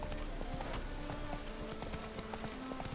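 Horse hooves clip-clop steadily in The Witcher 3 video game, a continuous rhythmic trot of close, dense hoofbeats over a constant background.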